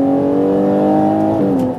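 Ferrari Purosangue 2023 accelerating, a loud, steady engine note that climbs smoothly in pitch and holds close and continuous, with a brief shift in tone near the end as it settles.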